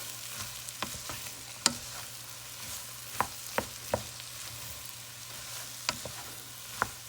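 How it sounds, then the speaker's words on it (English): Leeks sizzle steadily in a pot for potato leek soup, with sharp scrapes and clicks of a spoon stirring them at irregular intervals and no talking. "And our leeks. Let us stir to coat."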